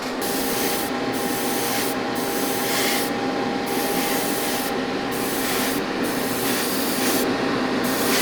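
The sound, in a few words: sanding a Mandalorian model kit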